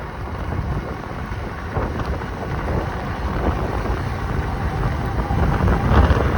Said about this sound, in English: Let's see what kind of top speed we can get down this gravel road. Full throttle, and we're going.